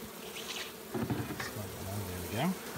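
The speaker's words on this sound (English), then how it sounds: "if I can move those bees off of that" Honey bees buzz around a hive frame during a spring inspection, a soft continuous hum with faint crawling and rustling close by, fairly quiet throughout.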